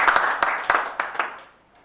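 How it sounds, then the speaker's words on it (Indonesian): Applause from an audience at a political panel discussion on economic growth, a burst of dense clapping with a few sharp claps that fades out over about two seconds. "Tepuk tangan buat Pak Kamar Samad."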